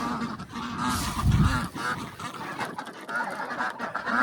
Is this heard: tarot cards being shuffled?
no